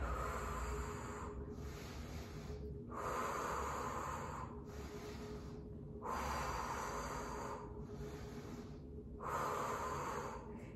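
Forceful exhalations during a Pilates exercise while squeezing a ball, breathy blowing bursts in a steady rhythm of about five long breaths, close and fairly loud, with no talking.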